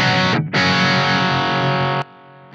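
A heavily distorted electric guitar chord through a Blackstar ID:CORE V4 modeling amplifier rings out loud, briefly cuts and returns, then stops abruptly, leaving a faint decaying hum.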